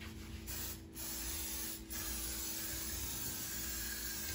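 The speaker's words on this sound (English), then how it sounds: "First, you spray the pan." Cooking spray hissing into a pan before making omelettes, a steady close aerosol hiss broken by a few brief pauses, continuous and fairly loud with no talking.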